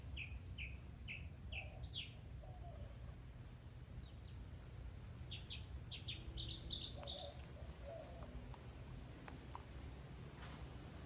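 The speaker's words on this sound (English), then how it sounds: "Just listen to the birds." Birds chirp and trill in short repeated bursts in a backyard garden in June, fairly faint over a steady low background hum, with no talking.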